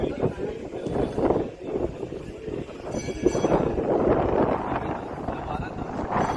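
Wind gusts buffet the microphone outdoors at Kunkeshwar temple, a rough, fluctuating roar that stays loud and close throughout.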